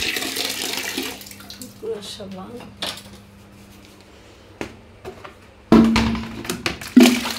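Water splashes and sloshes in a tub as a baby's dirty clothes are put to soak, with intermittent clunks and a voice speaking nearby.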